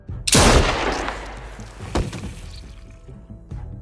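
A gunshot in The Walking Dead video game, a sharp, loud blast followed by a long rumbling decay, then a second, softer crack about a second and a half later.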